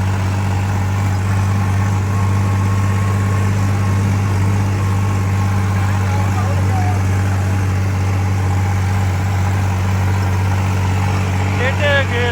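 A tractor climbing uphill in the mountains: a heavy engine drones steadily and loudly throughout, with a constant low hum and faint voices in the background.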